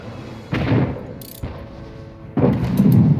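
Ship cannons fire during a naval battle in the game Anno 1800, giving three heavy booms spaced about a second apart, each followed by a rumbling tail.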